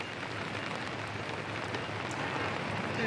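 Steady rain pours down at an outdoor funeral scene in the TV drama The Sopranos, a dense even hiss with no breaks, close and constant throughout.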